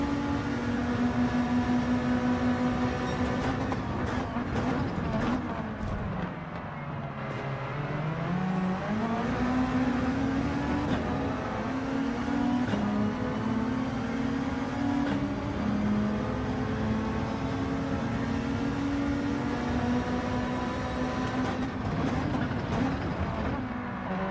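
Race car engine in the Gran Turismo 7 video game at the Red Bull Ring, droning steadily and loud throughout with pitch dipping and climbing through gear changes, other cars close by in the slipstream.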